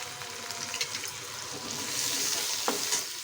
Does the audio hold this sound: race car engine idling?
no